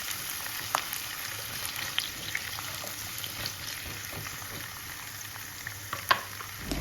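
Jengkol pieces fry in hot oil at home with a steady soft sizzle throughout, joined by occasional light clinks and stirring scrapes, one sharper knock near the end.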